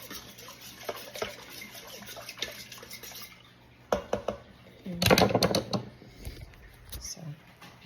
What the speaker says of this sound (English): Now I'm gonna get my whisk.